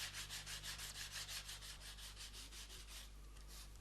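Fine sandpaper rubs back and forth across a small wooden model ship hull in quick, regular strokes, a soft rhythmic scratching over a low steady hum, close and quiet.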